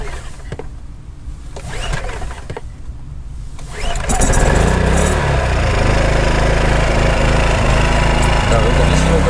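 Sendai 2 kW low-noise generator being pull-started, a few rattling cranking attempts before the engine catches around four seconds in and settles into a loud, steady running drone.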